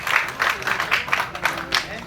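An audience at the RK Vellimegam audio launch applauds to welcome the music director, a short burst of scattered clapping from a crowd, moderately loud and close, with some talking mixed in.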